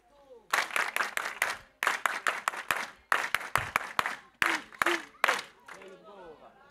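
Congregation at an ADEPR church prayer service claps in energetic rhythmic bursts, close and loud, with short pauses between rounds and voices calling out among the claps.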